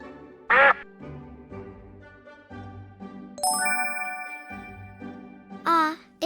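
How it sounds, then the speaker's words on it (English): Duck quacking in a farm sound quiz, two short loud quacks separated by chiming bell tones and a soft backing melody. "It's a little duck."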